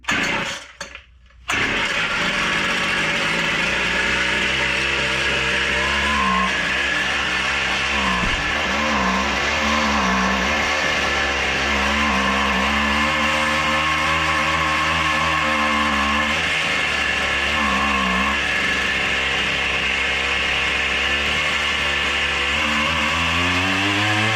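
A string trimmer engine rigged as a kayak outboard motor starts after a short pull, then runs loud and close with a buzzing two-stroke drone, its pitch wavering up and down as the throttle changes.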